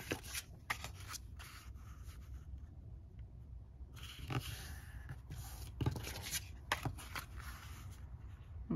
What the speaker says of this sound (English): I'm just going to fold them in half.